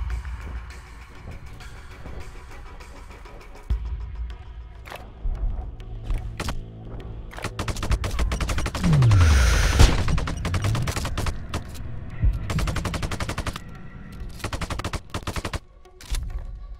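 Dense gunfire in the video game Sniper: Ghost Warrior 2: rapid overlapping shots and automatic bursts, loud and sustained across the whole stretch, with a low rumble and a descending whine partway through.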